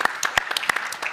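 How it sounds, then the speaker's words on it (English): Scattered claps from a small audience at a business Q&A panel, a handful of sharp distinct hand claps in irregular rhythm, close and moderately loud. "I reckon that deserves a round of applause."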